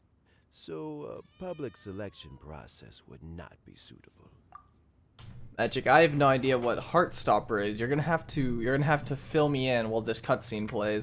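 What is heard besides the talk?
cat meowing in a Genshin Impact video game cutscene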